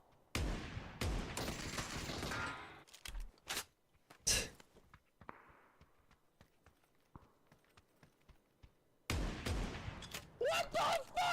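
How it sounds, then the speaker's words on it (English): Shotgun blasts fired in an online multiplayer shooter, several loud sharp bursts in quick clusters at the start and again near the end, with quieter scattered impacts and gameplay noise in between. "Where are my shotgun shots going?"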